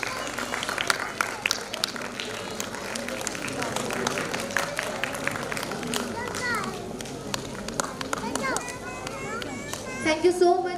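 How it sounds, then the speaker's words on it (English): A crowd applauds for a chief guest at a school annual day event, clapping mixed with children's chatter, shuffling and movement, with the clapping fairly distant and steady and no single voice standing out. "Please give a huge round of applause for our chief guest"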